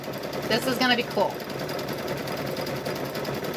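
Sewing machine stitching down the edge of a quilted Halloween tote bag, a steady mechanical whir running under brief talk at the start and then continuing alone throughout.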